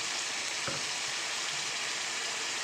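Onion and tomato paste fry in a pan with a continuous hiss of sizzling oil and one soft clink partway through.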